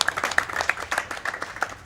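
Audience applause at a speedrun event, a Max Payne 2 run at Summer Games Done Quick 2016: a crowd claps in a brief burst of dense, crackling hand claps at moderate volume, with no voices over it.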